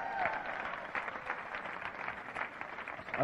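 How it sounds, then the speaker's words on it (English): Audience applause, a steady patter of many hands clapping at a moderate distance, sustained for a few seconds. "Give a round of applause."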